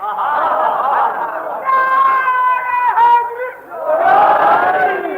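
Many voices at an Arbaeen majlis shout slogans together in loud, sustained bursts of chanting, rising and falling in waves with a short dip before a final surge.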